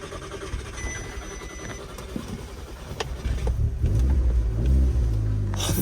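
An Audi S3 engine cranking and catching on a cheap used car, with some quiet handling noise first, then a loud low rumble that builds into a steady close idle.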